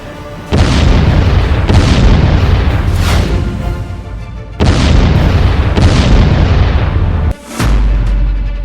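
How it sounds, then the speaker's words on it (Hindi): A ballistic missile striking a building in an Israeli city during an Iranian attack, heard as loud, sustained booming blasts that roar and rumble, with two main surges and a brief gap near the end, overwhelming and close. "एक मिसाइल बेगलशेवा शहर में इमारत पर गिरी"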